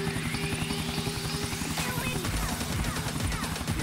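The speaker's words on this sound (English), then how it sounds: "Take the chopper back to the helipad." A helicopter in GTA IV: The Ballad of Gay Tony gives a fast steady rotor chop with a whining engine tone, continuous and moderately loud.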